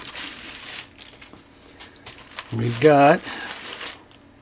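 A box of Christmas lights, about a 50 pack, is unpacked with short bursts of crinkling and rustling packaging, near and moderately loud. A person talks at points through the clip.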